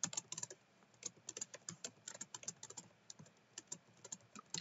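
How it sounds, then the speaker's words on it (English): Fast typing on a computer keyboard while entering a long expression: a dense, irregular stream of close, crisp key clicks with occasional louder strikes, continuous and without speech. "let's say I'm typing out a really long expression."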